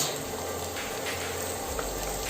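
Ginger-garlic paste frying in a pan with bottle gourd for a curry, giving a steady, close sizzle with faint stirring scrapes and no one talking.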